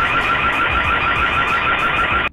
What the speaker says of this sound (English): a blaring alarm went off